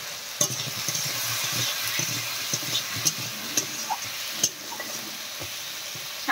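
Curry frying in a pan with turmeric, chili powder and salt, a steady close sizzle with stirring scrapes and a few sharp clinks of the spoon against the pan, no voices.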